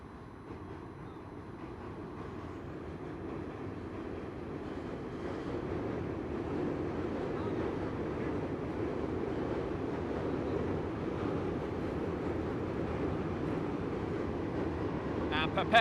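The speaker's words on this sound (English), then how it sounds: "7 train goes overhead." A number 7 subway train rumbles overhead above an amateur football match in the Bowery League championship, a steady low roar building gradually across the clip with no talk heard.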